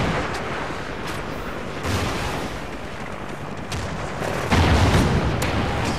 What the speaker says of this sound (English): He was throwing C4 at me